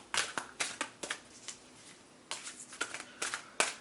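Bursts of crisp tarot card shuffling, riffled several times in quick clusters with short pauses between, close and fairly quiet.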